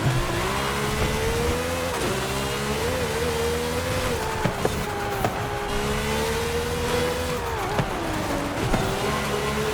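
A Porsche race car in Forza Horizon 5 howls at high revs during a long road race, pitch rising and dipping through gear shifts, loud and steady with occasional tyre noise.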